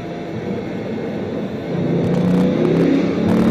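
A Bugatti Veyron accelerating in first gear, heard from inside the car: a steady engine drone that swells and rises in pitch as it pulls, with no talking.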